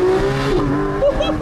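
A Porsche 991 GT3 on a tight, twisty Alpine road, its engine note held high and close, pitch sliding down and climbing again within a second and a half, with some faint tire noise.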